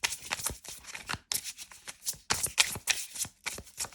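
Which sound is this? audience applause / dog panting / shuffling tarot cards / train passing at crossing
shuffling tarot cards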